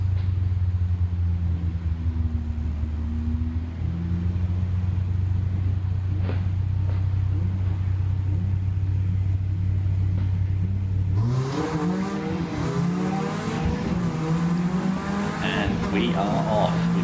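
Cars at a Rockingham trackday race idle in a steady low drone heard from inside a car, then surge into rising engine revs and gear changes at the start, with someone talking over the noise.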